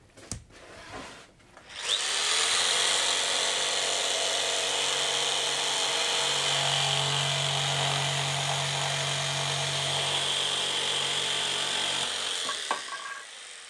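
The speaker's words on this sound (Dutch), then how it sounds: "Vandaag doen we alles met de decoupeerzaag." A jigsaw cuts wood for a great tit nest box, a loud, steady, close buzzing whine that runs for about ten seconds after a brief start, then winds down and stops.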